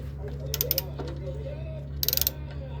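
An 18 mm wrench ratchets on a tie rod nut on a 2008 Chevy Malibu, two quick bursts of close, crisp clicking over a low steady hum, with a voice talking between them.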